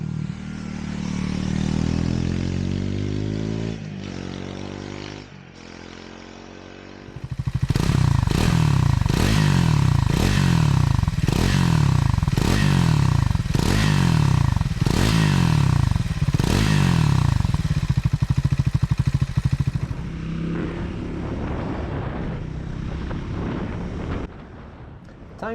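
A Triumph Tracker 400 motorcycle engine idles, then revs hard in a long run of loud repeated throttle blips before settling back to a lower idle, close to the microphone.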